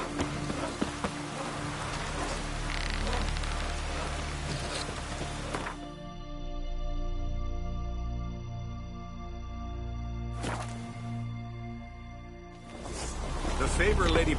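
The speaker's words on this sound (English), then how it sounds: "Oh, raining again." Steady rain pours down in The Witcher video game, a continuous hiss broken by a few sharper whooshes, with a low sustained musical tone underneath.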